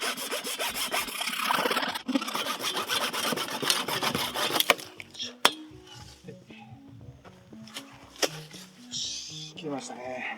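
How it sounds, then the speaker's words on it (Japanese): A hand saw cuts through PVC pipe with quick, rasping back-and-forth strokes for several seconds, followed by light clinks and handling noises as the pieces are moved, with quiet talk in the background. "切りますよ。"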